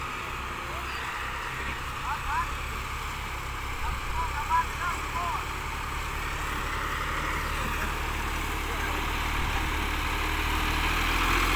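A farm tractor towing a dump truck home after a rollover accident runs with a steady low engine rumble that slowly builds in loudness, while people talk over it.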